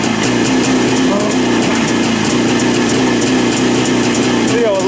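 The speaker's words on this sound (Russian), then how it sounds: "Я вот заработал получше на двух цилиндрах." A Jawa motorcycle engine running on both cylinders after fresh spark plugs, a steady, close, loud idle with a regular pulsing beat and no break.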